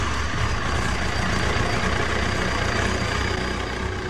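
An engine runs right after RFID implant authentication powers up the motorcycle, a steady dense rumble that holds without change throughout and has nobody talking over it.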